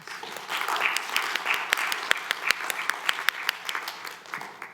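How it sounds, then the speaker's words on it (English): A room full of people applauding at a city council meeting, a steady wash of claps with a few sharp louder ones standing out, lasting several seconds. "Let's give him a round of applause."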